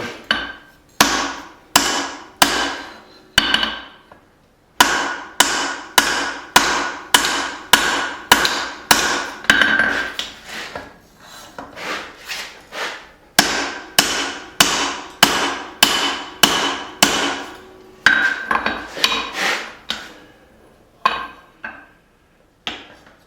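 A cross peen hammer rings sharply on a hatchet being forged on an anvil, delivering close, loud strikes in quick rhythmic bursts separated by brief pauses, with no talk.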